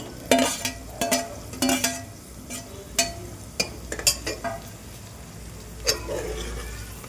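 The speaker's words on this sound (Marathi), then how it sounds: "हा बारीक चिरलेला कांदा आहे ना, हा आता आपण तेलामध्ये परतून घेऊ चांगला." Finely chopped onion frying in plenty of oil in a pan for mutton curry, with a quiet sizzle under repeated scraping and clinking stirs of a spoon against the pan.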